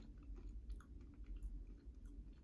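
Turkish roasted chickpea snack being bitten and chewed close to the mouth, a soft continuous munching with faint crunch, low in level and without talk.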